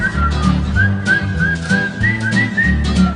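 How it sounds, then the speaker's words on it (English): Melodic human whistling of a tune in a Seinfeld scene set along a street, a continuous line of rising and falling notes over a steady musical backing, loud and close. "The whole whistling montage down the street was perfect."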